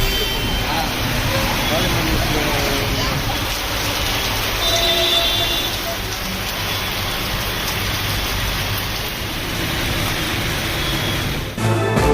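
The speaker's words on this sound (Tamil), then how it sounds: "ஆவடி, பூந்தமல்லி உள்பட சென்னையின் புறநகர் பகுதிகளில் கனமழை" Heavy rain falls over suburbs of Chennai, a dense, steady hiss of downpour that stays loud and even for the whole stretch.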